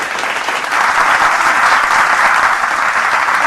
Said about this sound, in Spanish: Bravo, el aplauso ¡Bravo!